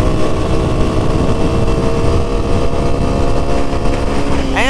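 A Honda CRF250F dirt bike engine runs steadily and loudly up close, a continuous motor drone that holds even throughout with a brief rising rev near the end.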